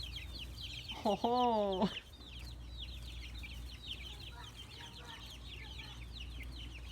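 Heritage chickens cluck and chatter in a flock, one bird letting out a loud drawn-out squawking call near the start, then steady softer clucking continues, with a brief spoken word.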